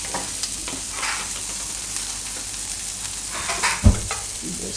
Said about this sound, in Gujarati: વચ્ચે વચ્ચે હલાવતા રહેવું.